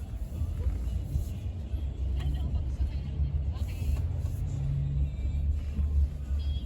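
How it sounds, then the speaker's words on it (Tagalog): Road traffic rumbles in Vancouver, Canada, heard from inside a moving vehicle: a steady low engine and road drone with passing cars and faint hiss throughout. "May traffic dito."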